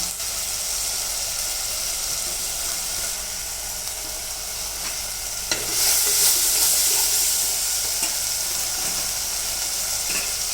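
Masala with kasuri methi sizzles steadily in a hot pan as a spoon stirs it, with scraping strokes and a louder burst of frying partway through.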